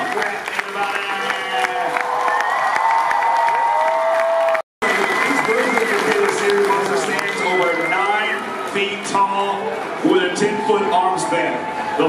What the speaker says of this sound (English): Clap and scream for Junkrat.